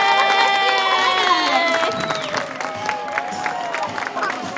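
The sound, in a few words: audience applauding and cheering a sea lion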